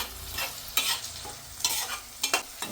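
A pinch of turmeric is stirred into vegetables in a pan, with several distinct scraping spoon strokes over a soft sizzle. The strokes are close and separate, with no talk.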